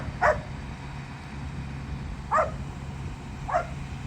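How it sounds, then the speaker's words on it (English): Max the dog lets out three short, separate barks, set apart by pauses over a steady low background rumble, at a moderate distance on a farm. "Max stays with Arnie throughout this entire process, barking the whole time and running around."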